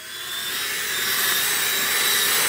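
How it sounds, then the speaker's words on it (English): A drill brush scrubs a stained carpet as part of DIY carpet extraction, giving a steady, loud whirring motor drone with broadband scrubbing hiss that swells slightly and holds constant, with no talk. "Now I'm gonna go ahead and take my drill brush and hit it."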